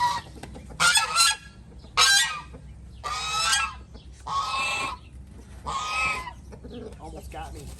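A goose honks in five loud, harsh bursts spaced about a second apart, close by, with quiet gaps between the calls.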